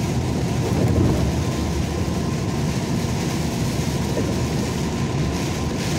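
Steady, dense rain pours down on a road construction site in Montes Claros, Brazil, with a constant hiss and low rumble, no voices, filling the space evenly throughout.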